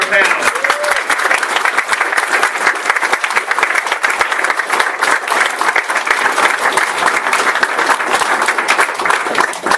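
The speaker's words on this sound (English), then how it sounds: "A round of applause for our panelists." Panelists at a pulp fiction convention receive loud, sustained applause from the audience, a dense wash of many hands clapping close by, unbroken for about ten seconds, with voices mixed in.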